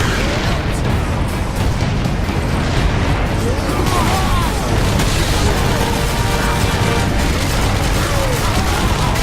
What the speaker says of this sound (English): That was not me, that was solely the artillery, making that very large explosion.